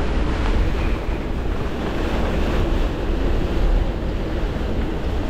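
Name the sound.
strong wind around a boat at sea, about 28 knots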